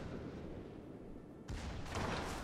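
Secondary guns of the battleship Bismarck fire in the naval combat game World of Warships, a sudden loud burst of broadband gunfire rising over steady game ambience and continuing to the end.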